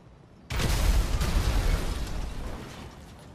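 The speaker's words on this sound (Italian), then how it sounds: "ah giusto Willy non ci hai ancora detto con quante esplosioni il Pounder esplode" A sudden loud explosion of a Pounder armored truck in GTA 5 Online bursts in after a quiet moment, followed by a rumbling, crackling roar that slowly fades.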